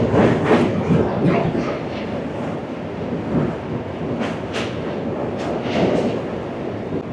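Passenger train running on the 18-kilometre line between Pandit Deen Dayal Upadhyaya and Varanasi, a steady rumble with rhythmic wheel clatter throughout, heard from inside or close by, with no talk over it.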